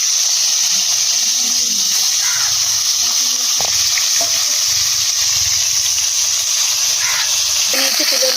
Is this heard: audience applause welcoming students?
no